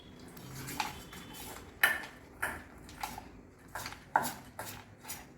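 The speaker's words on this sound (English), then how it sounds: "Now let's mix all of it." Spoon scraping and clinking against a bowl while ingredients for a no-cook cucumber filling are stirred together, a series of irregular close metallic taps and knocks.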